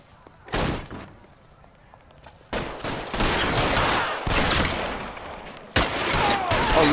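Gunfire in the video game L.A. Noire: several loud bursts of rapid shots, one short volley then longer sustained fusillades separated by brief quiet gaps, with no talking.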